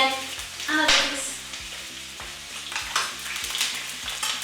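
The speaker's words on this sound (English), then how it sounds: "That beautiful sizzle, that oil all around." Pieces of goat meat sizzle and crackle in hot oil for a goat curry, a steady close frying hiss with bursts of spattering and some stirring clatter, no voices.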